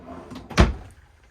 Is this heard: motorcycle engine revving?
no